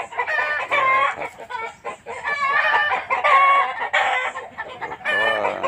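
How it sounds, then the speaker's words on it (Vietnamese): Chickens cluck and a rooster crows repeatedly in a mixed chicken-raising area on a rural Vietnamese farm, loud and close, with overlapping calls in bursts. "Đây là khu vực nuôi gà, đủ loại gà luôn."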